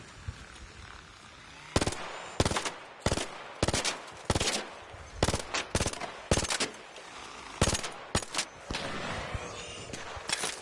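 Gunfire in Arc Raiders rings out as a string of sharp, loud shots and short bursts spread irregularly across the stretch, over faint background noise.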